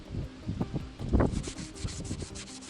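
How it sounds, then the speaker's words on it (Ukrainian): Wet car headlight being sanded by hand with sandpaper, a close, soft rhythmic rubbing and scratching in short strokes. "Спочатку змочуємо половину фари. І починаємо використовувати наждачну бумажку."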